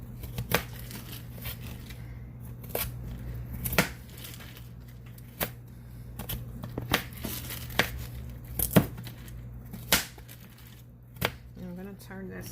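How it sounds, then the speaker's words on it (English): A kitchen knife cuts food into smaller pieces on a board, giving sharp, irregular chops spaced a second or so apart over a steady low hum, close and moderately loud. "I'm just going to run my knife kind of through these a little bit more just to cut them up a little bit smaller as well"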